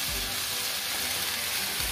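Tomatoes hitting a hot frying pan set off a loud, steady, close-up sizzle that hisses without a break throughout.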